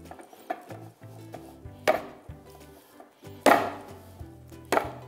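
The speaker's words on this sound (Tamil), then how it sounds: "இது நான் கண்ணாடி பவுலில் இதை வந்து கலக்கிறேன்." Potato dough being mashed and mixed in a glass bowl, irregular knocks and taps against the glass at varying loudness, with soft background music in between.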